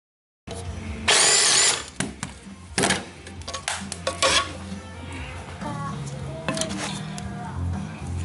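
Hand tools work loose the skid plate beneath a 2016 BMW R1200GS Adventure motorcycle, giving close metallic clanks, rattles and scrapes with a couple of sharp whirring bursts, and no talking.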